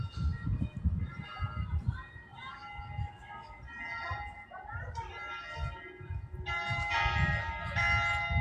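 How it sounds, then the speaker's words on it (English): Church bells ring out across downtown Augusta, Georgia, their sustained, overlapping tones building and swelling toward the end, with low traffic rumble and occasional talk underneath. "See if we can hear the bells ringing"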